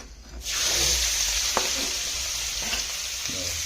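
Capsicum dropping into hot oil with cumin for an aloo paratha filling sets off a sudden loud sizzle that holds steady while a spoon clinks and scrapes a few times; no one talks.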